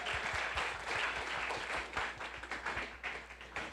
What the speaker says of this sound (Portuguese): Aplaudo Deus vivo.